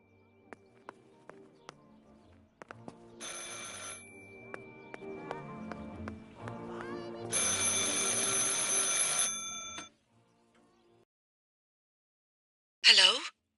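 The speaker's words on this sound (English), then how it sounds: "I should pick up the phone but remain silent" A telephone rings in the horror video game Martha Is Dead, with bright repeated bursts among tonal game music and a final short ring at the end.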